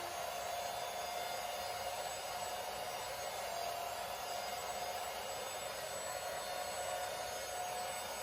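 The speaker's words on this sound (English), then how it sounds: "both of them are very much doing the job of sucking the air out of these bags and compressing these really thick sweatshirts" Two travel compression vacuums run together sucking the air out of clothing bags packed with thick sweatshirts, a steady close motor whine with a faint high tone that holds evenly throughout.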